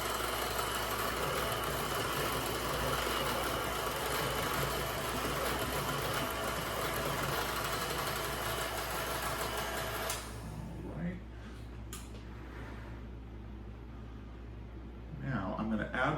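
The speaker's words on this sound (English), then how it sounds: "And I am mixing this on low to help prevent any splatter." Electric mixer running on low through chocolate cake batter, a steady close motor hum that cuts out partway through, leaving faint clatter and handling noise.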